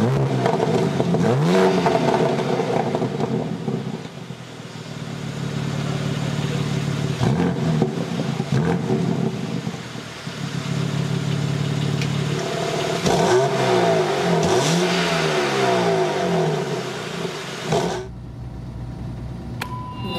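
BMW M car in Sport Plus mode revs its exhaust repeatedly, loud rising and falling engine sweeps in several bursts close up, ending abruptly.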